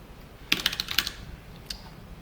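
Quick burst of keystrokes on a computer keyboard during HTML and CSS coding work, several close light clicks in a cluster and then one more tap, fairly soft with a low background hum.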